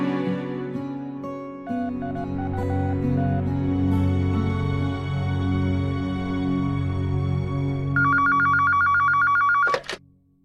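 A telephone rings with repeated electronic trilling bursts near the end, heard over a steady bed of background music in a domestic scene; the rings are loud and close.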